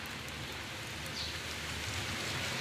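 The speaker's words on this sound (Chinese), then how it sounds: "老家下的雨大得很呀，昨天晚上下了一夜啊" Heavy rain pours steadily on surfaces in a rural hometown, a dense, even hiss with no pauses and no voices.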